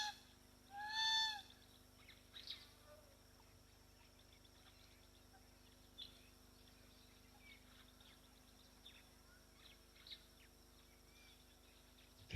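Hamerkop birds call at a waterhole with a single loud, harmonic squawk near the start, followed by faint, scattered calls over quiet ambient background.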